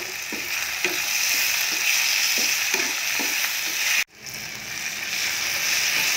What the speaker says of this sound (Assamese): বিলাহী ভজা হৈ গ'ল